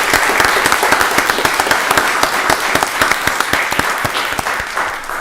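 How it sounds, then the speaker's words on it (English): Sustained audience applause at a county board of commissioners meeting, dense even clapping from many hands filling the room for several seconds with no break. "I want y'all to just join me in giving Ron a round of applause"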